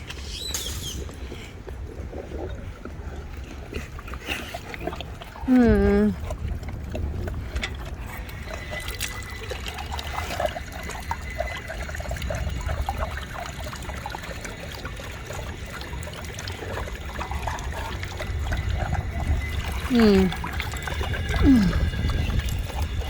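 Water trickles and splashes into a bowl for a large dog, an Anatolian or Great Pyrenees mix, at a dog park, over a low outdoor rumble with faint mechanical clicks and a couple of brief vocal sounds.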